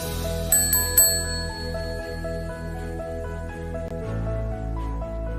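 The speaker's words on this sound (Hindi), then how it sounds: "अब जंगल में बड़ी रोशनी फैलती है और एक बड़ी घंटी उत्पत्ति होती है" A magical bell rings out in a forest with a series of clear, chiming strikes over a sustained shimmering tone, the first few brighter and louder, the rest settling into a steady ringing wash.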